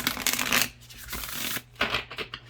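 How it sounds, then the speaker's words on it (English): Gilded-edge oracle cards riffle and slide together in quick, close bursts separated by short pauses, soft papery swishes alone without talk. "These shuffle very nicely. Even with the gilded edges that can sometimes cut your hands."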